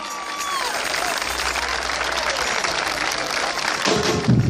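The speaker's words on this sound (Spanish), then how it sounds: "este es el aplauso" A crowd applauds a carnival comparsa show at an outdoor parade, with broad sustained clapping, scattered cheers and a whistle, and a low rumble and thump near the end.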